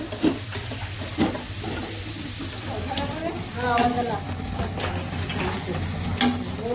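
Potatoes for muri frying in a pan, a steady low sizzle with stirring clinks and scrapes, with muffled voices faintly in the background.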